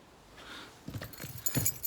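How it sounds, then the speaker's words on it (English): Car keys jangle as they are picked up, a brief metallic clinking that starts softly and grows busier near the end, close by with no talk. "pick the car keys up"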